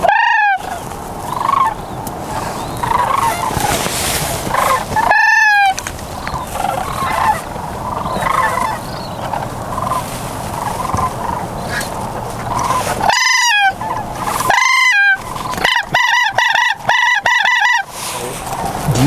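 A flock of sandhill cranes calls as it flies in over a hunting spread, loud rolling bugling cries repeated in bursts, with several close, overlapping calls near the end.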